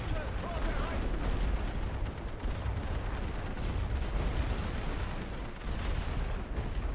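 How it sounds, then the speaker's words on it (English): Dense machine gun fire and scattered shots from a WWI strategy video game, a continuous loud crackling barrage with distant bursts layered together, running the whole way with no pauses. "Machine guns can't hit everyone at once."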